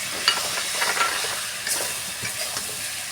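A ground spice paste with cumin and coriander powder being stirred in a hot pan, a continuous hiss of frying with scattered spatula scrapes, close and steady.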